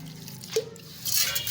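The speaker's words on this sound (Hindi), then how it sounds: "इसके अंदर थोड़ा सा पानी डालो" A little water poured into a container at close range, with soft dripping and trickling, then a brief brighter splash of water near the end.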